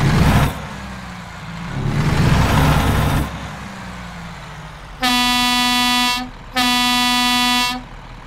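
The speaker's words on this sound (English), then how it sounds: "Pretty nice air horn, I have to say" Western Star 49X truck in American Truck Simulator: the engine revs through two surges, then the air horn sounds twice, each a loud, steady, deep blast lasting just over a second.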